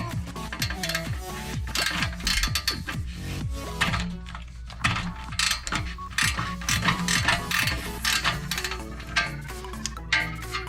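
Ratchet loosening an exhaust fitting during a Kooks cat delete install on a 2015–2023 car, steady mechanical clicking heard up close and loud, running continuously with no talk.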